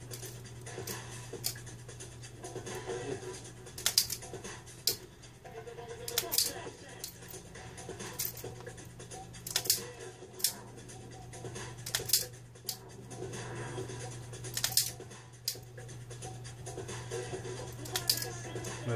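Wire being cut and stripped with hand tools while terminating an LS1 engine ECM wire harness, quiet irregular snips and scratchy clicks close by over a steady low hum, with occasional speech.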